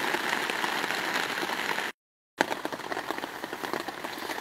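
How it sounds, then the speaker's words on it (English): Heavy downpour falling on a tent during days of steady rain, a dense continuous patter that cuts out briefly and then resumes just as thick. "It's been raining for 3 days straight. Downpours. Straight downpours. 3 days straight. You can hear it bouncing off my tent."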